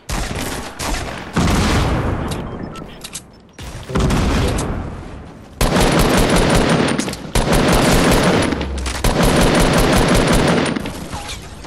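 Bursts of Fortnite gunfire in a duos match, loud rapid automatic fire and blasts repeating in several clusters with short gaps between them, almost no talk over it.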